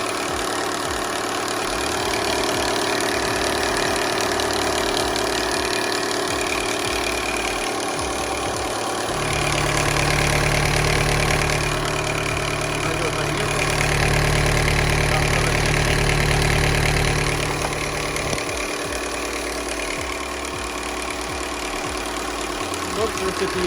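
Volkswagen Golf 5 with a 1.4 TSI engine idling after a start, a steady low hum that rises for a stretch in the middle and then settles back, with someone speaking over it at times.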